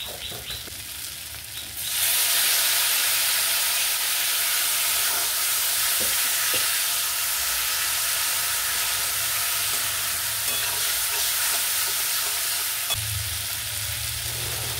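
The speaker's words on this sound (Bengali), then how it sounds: "জিরে গুঁড়ো আর একটু ধনে গুঁড়ো আর সাথে অল্প জল মিশিয়ে মশলাটাকে ভালো করে কষিয়ে নিতে হবে।" A masala of cumin and coriander powder with a little water frying in a pan, a soft hiss that suddenly swells into a loud, steady sizzle, with occasional faint stirring knocks, with no talking.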